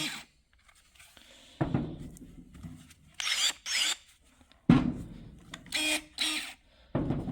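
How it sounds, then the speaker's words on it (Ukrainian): ProCraft cordless electric pruning shears, ES22Li or ES28Li, run in several short motorized bursts with snipping and crunching cuts, separated by quiet pauses. Fairly close. No voices. "Цей ось секатор дивіться. Отак ось працює."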